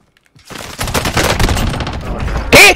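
A burst of rapid automatic gunfire from Call of Duty Warzone plays loud and dense for about two seconds, ending in a sharper, brighter crack.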